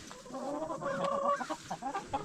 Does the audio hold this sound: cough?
no